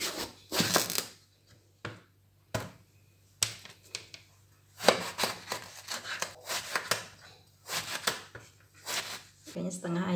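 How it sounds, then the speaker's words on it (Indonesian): Eggplant is chopped on a cutting board, a series of sharp knife knocks in uneven bursts, close and clear, with pauses between. "Potong menurut selera masing-masing. Di terong potong."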